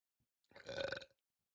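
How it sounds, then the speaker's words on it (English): A single short burp after drinking coffee, close and fairly loud, voiced and guttural, standing alone in an otherwise quiet moment. "That was a coffee burp."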